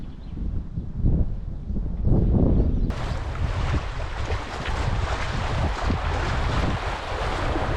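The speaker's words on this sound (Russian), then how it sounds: "Наши маленькие лодки вновь начинают скакать по волнам" Small boats on a river raft trip bouncing through rapids, with loud rushing and splashing water and wind buffeting the microphone, starting muffled and then bursting into a continuous close roar.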